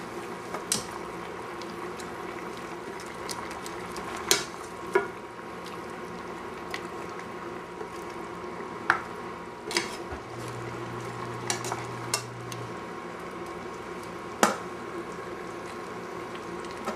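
Braised beef short ribs simmering in sauce in a pan, a steady soft bubbling with occasional clinks and stirring scrapes of a utensil, close and alone without talk.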